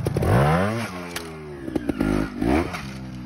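A trials motorcycle engine revs hard in sharp bursts as the rider launches a jump after the front wheel strikes an obstacle, with the throttle blips and clattering impacts close and loud, and no talking.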